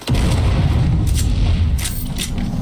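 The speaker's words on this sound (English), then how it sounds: "our friend coming from above and throwing out one more grenade" Grenade blast in the video game Dune Awakening, a loud booming explosion that rolls on as a sustained low rumble, with a few sharp crackles near the end.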